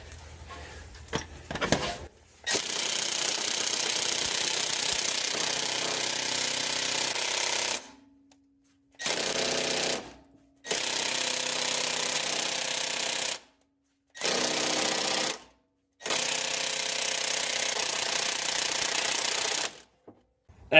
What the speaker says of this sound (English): Earthquake XT from Harbor Freight. It's a beastie impact.